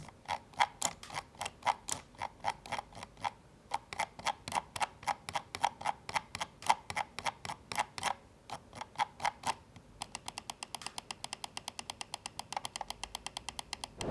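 Rapid scroll wheel clicking on a Razer Viper V3 HyperSpeed mouse, in bursts of crisp ticks, then a faster, finer run of clicks near the end; close and fairly loud, no voices.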